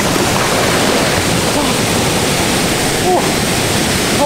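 Lingjiao Waterfall in Taipei, Taiwan, pours in a steady, loud, broadband roar close by, with faint voices briefly audible beneath the continuous rush of falling water.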